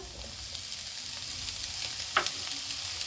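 Paneer stuffing sizzles softly in a pan over a gas flame as it is stirred, with a steady low frying hiss and one clear scrape of the spoon partway through.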